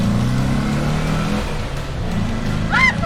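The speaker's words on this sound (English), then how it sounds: "It's a loud car." A yellow Ford Mustang GT with a TIG-welded half cage, its engine droning loudly and steadily nearby, then rising into a brief rev near the end.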